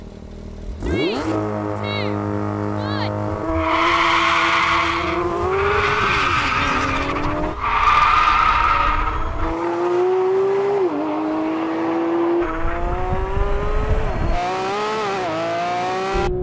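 A Porsche 911 GT3 RS launching in a drag race with traction control off, the engine screaming up through gears with tire squeal and skidding, loud and close, pitch climbing then dropping at each shift.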